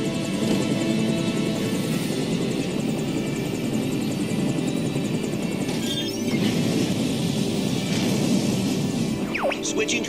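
Star Fox Landmaster tank transforming into a jet in a video game, a steady loud engine roar with whooshing mechanical shifts and a brief sweeping effect near the end, over music and game sounds.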